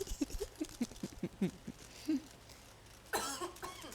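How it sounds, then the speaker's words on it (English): A few quiet, muffled coughs in a row, then a louder throat-clearing burst near the end, close to the microphone. "I'm so sorry if you heard me coughing"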